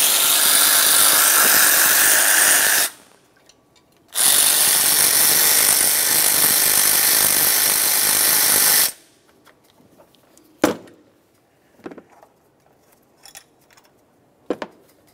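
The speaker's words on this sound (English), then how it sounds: "Now we can continue on to removing our two 14mm headed mounting bolts." A power tool whirs on the 14mm headed mounting bolts of a 1994-2002 Dodge Ram 2500 in two loud sustained bursts, then falls to sparse metallic clicks and clanks of handling nearby.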